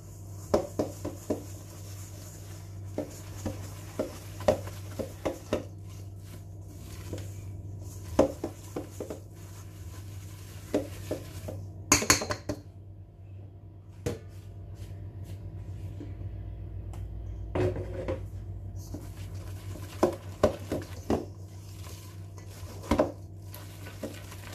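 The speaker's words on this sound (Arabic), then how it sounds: "ونخلط" A utensil works egg whites into chocolate bûche batter in a bowl, giving soft, irregular scraping and knocking sounds, with scattered clinks against the bowl and a steady low hum behind, and no talking.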